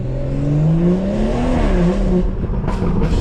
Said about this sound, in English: Our boy car sound crazy.